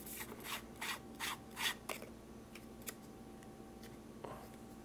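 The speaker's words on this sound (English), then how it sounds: "And here it just screws on." Part of a Fifine K025 wireless microphone is screwed on by hand, giving a quick series of close, soft rubbing and scraping twists followed by a few fainter clicks.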